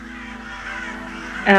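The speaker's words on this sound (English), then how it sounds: "And you hear the ravens call out again." Ravens calling out as a tabletop game sound effect, a brief harsh cawing burst arriving near the end above a steady background hum and murmur.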